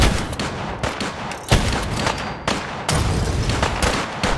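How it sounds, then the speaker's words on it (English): Heavy gunfire in the video game Fallout 4 during a battle at Bunker Hill, loud repeated shots and bursts ringing out in uneven clusters, with several sharp blasts separated by brief lulls, no talk. "You're shooting at somebody."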